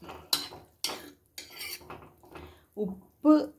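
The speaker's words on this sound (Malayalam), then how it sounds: "എന്നിട്ട് അതൊന്ന് ഇളക്കി യോജിപ്പിക്കണം" A spoon stirs three tablespoons of sugar into salted, chopped lemon pickle in a bowl, making a series of close, distinct metallic clinks and scrapes at an uneven rhythm, each louder than the last, with no talking.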